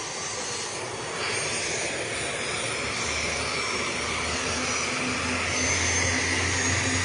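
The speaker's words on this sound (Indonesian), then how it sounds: "mari kita saksikan proses dari lepas landasnya helikopter milik Mabes Polri ini" An Indonesian National Police helicopter taking off at an emergency evacuation site gives a loud, continuous turbine and rotor roar that holds steady and swells slightly toward the end, with no talking.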